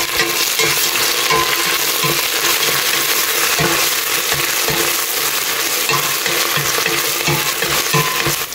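Coriander and mint leaves are stirred into a frying pot for a one-pot meal, giving dense crackling sizzle with constant scraping and clattering of the spoon, loud and close.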